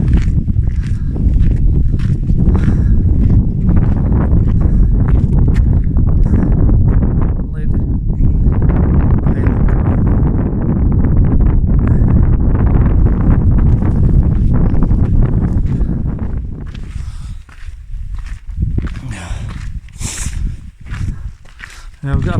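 Cold wind blowing across a Scottish mountain hike toward Braeriach, a loud steady roar of wind buffeting the microphone for most of the span, easing near the end, with footsteps and people talking over it.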